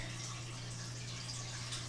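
Orange paint poured into a container while mixing paint colours, a faint, steady liquid trickle and splash close by, continuous under a low electrical hum with no talking.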